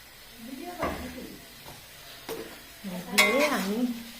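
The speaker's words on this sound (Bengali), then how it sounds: "দিয়ে আমি ওটাকে ভালো করে নেড়ে দেবো।" Fried cauliflower is stirred into spiced oil in a pan with faint sizzling and scraping strokes. Someone talks over it, her voice louder than the cooking.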